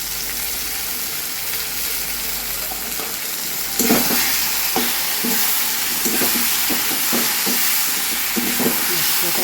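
Spices and turmeric frying in a pan for a fish-head curry, starting as a steady hiss, then louder spattering sizzle with repeated stirring scrapes in the second half.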